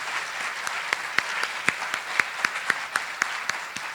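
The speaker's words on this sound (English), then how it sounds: "Round of applause for that," Audience applause for the Lamar County school district at a school celebration, a steady wash of many hands clapping with sharper individual claps standing out throughout.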